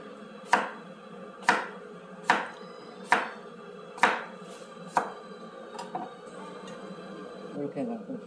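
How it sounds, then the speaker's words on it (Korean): A knife chops through cucumber on a cutting board for pickles, six sharp, evenly spaced thuds about a second apart, then lighter, scattered taps, close and clear with no talking. "먹기 좋게 썰어 주시면 되지 않을까요?"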